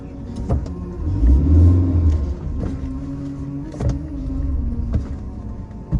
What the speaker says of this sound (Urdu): گاڑی بند ہو چکی ہے, پھر سے سٹارٹ کرنی پڑے گی.